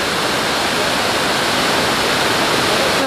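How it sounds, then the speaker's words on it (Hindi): Kempty Falls in Mussoorie, Uttarakhand, a hill waterfall pouring with a loud, dense, unbroken roar at close range, no voices cutting through. "और ये जो फॉल का पानी है"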